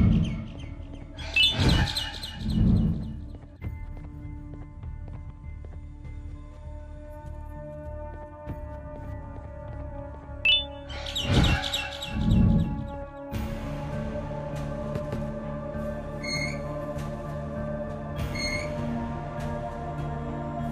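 Chirping and tweeting birds in the horror video game Garten of Banban, in short bursts of bright calls, two louder flurries and then fainter repeated tweets over a steady tonal game hum.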